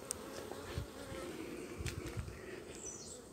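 Honeybees in an open beehive with a young queen and brood, giving a steady close buzzing hum of many insects throughout, with a few louder passes of individual bees near the ear.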